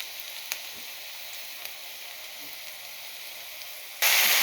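Mixed five-vegetable bhaji frying in a pan with turmeric and salt: a steady, close, hissing sizzle with faint pops throughout, jumping sharply louder at the end as the mixture is stirred or added.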